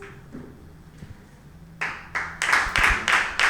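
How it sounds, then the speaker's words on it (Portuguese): Congregation at a Pentecostal church service clapping for Jesus; after a quiet stretch of low murmur, sharp rhythmic handclaps break in and build into a steady, loud, regular beat. "Aquelas palmas aí para Jesus"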